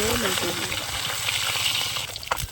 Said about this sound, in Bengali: আজকে আমাদের রেসিপি হবে বন্ধুরা ভোলা মাছের ঝাল ভোলা মাছটাই ভাজা হচ্ছে